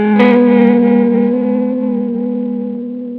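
Guitar signal run through a Chase Bliss and Cooper FX Generation Loss pedal set fully maxed, a loud sustained degraded chord with wobbling, warbly tone that slowly fades.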